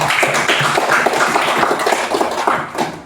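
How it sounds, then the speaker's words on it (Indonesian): A classroom of students clapping hands in steady, dense applause that fades slightly toward the end. "tepuk tangan untuk Anze."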